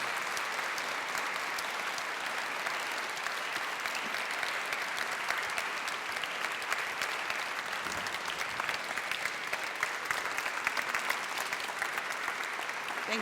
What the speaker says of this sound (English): Give everyone one round of applause.